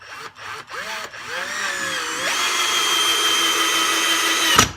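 SnapFresh 20V cordless drill on speed 1 driving a 2-inch screw: a few short whirring bursts, then a sustained close motor whine with rising pitch as the screw bites into wood, ending abruptly.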